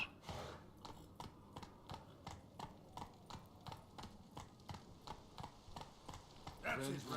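A horse gallops in the video game The Witcher 3, a steady run of rhythmic hoof beats at a moderate distance, faint overall, with a brief breathy snort or whinny near the end.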